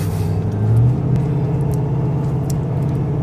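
Steady road rumble of an RV driving along a highway, a continuous low engine and tire drone with a brief swell of revving early on, loud and close, no talk.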